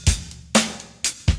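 Drum kit playing an open hi-hat pattern from a song: four sharp, bright cymbal hits paired with low drum thumps in a quick, uneven rhythm, close and loud with no voices.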